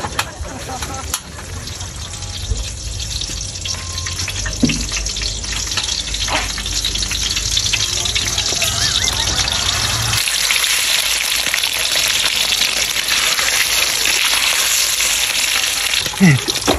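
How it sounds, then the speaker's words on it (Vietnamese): Fish frying in a hot pan, a loud continuous sizzle and crackle close up with occasional pops, steady throughout without speech. "trời ơi con cá nó nổ trời. Con cá này ngon thiệt,"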